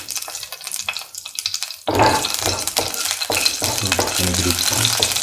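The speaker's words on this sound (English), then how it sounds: "Put in the fenugreek seeds." Fenugreek seeds and split Kashmiri chili hit hot oil for a stew, a loud steady sizzle starting abruptly after a quieter stretch of kitchen clatter, with stirring scrapes and brief water-like crackles throughout.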